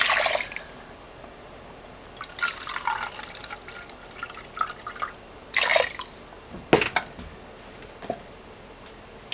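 Chicken stock is poured into a pot of orzo and lentils, giving intermittent splashes and liquid gurgles in short bursts, with drips and a sharp clink, at close range and without voices.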